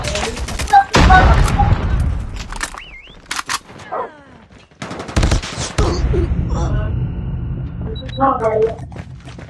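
Bursts of rapid automatic gunfire, including a sentry gun, in a shooter video game, with loud fusillades and single shots mixed with game effects and players talking.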